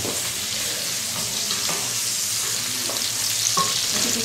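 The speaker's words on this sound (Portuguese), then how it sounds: "Quanto tempo que vai fritar esse toucinho?" Toucinho (bacon) fries steadily in a pan for feijão tropeiro, a dense, even sizzle with small crackles and occasional pops throughout.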